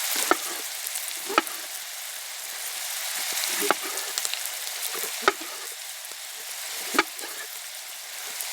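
Mushrooms frying in browned butter with garlic, a steady broadband sizzle throughout, broken by a few sharp clicks and scrapes from stirring, close and moderately loud with no talk.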